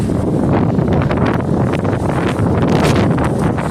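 Strong wind buffets the microphone, producing a continuous loud rumbling roar with no pauses.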